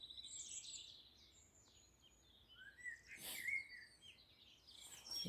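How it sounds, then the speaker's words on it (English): Robin and wren singing in a dawn chorus at East Dartmoor, with faint, distant, high chirping phrases over quiet background and a buzzy little trill near the end. "Robin's still singing. There's the wren. That sort of buzzy little sound at the end."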